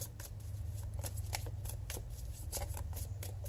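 Tarot cards are shuffled and drawn in a quiet room, a close run of quick papery riffles and flicks with no voice over them.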